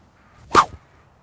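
One quick, sharp whoosh of a golf club swinging through the air, close and brief against near silence.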